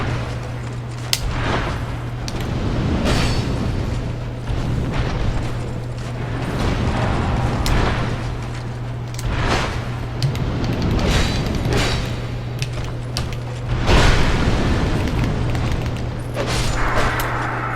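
A Dark Souls II boss unleashing a fire vomit attack: repeated deep booming bursts and rumbling blasts over a constant low drone, loud and continuous with sharper impacts scattered across the span.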